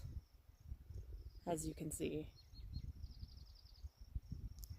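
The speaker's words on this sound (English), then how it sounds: "I hear the crickets chirping, so I know there's bugs" Crickets chirping at a quiet, empty campground, faint high steady trills in the background with birds calling now and then, while a person speaks briefly nearby.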